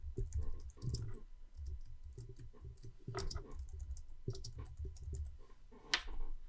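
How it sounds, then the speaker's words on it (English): Computer keys click in short irregular bursts while a keyboard shortcut is typed to highlight cells in an Excel spreadsheet, close and quiet with brief pauses between clusters of taps. "I can always use the keyboard shortcut to highlight to the right."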